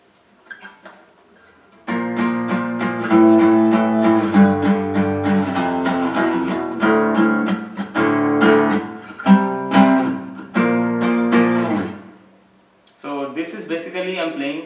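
Guitar power chords for the chorus of a song ring out as loud, distorted, sustained strums, changing in a steady rhythm before breaking off and leading into a brief different passage.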